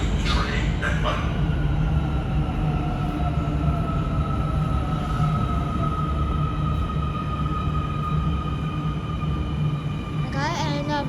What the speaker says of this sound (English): The train bound for Futian bonded area is arriving soon.